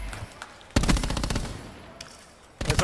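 Rapid automatic gunfire in a Call of Duty match, a loud sustained burst of fast shots followed after a short lull by another burst starting up.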